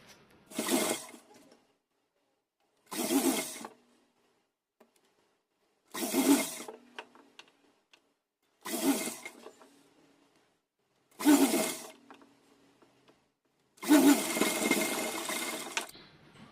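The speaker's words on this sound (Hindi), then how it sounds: "इसे पलट करके यहाँ किनारे किनारे सिलाई लगाएंगे" Sewing machine stitching along the turned-over edge of a fabric strip for a deity's dress, running in six separate bursts of about a second each with short pauses between, the last run longer.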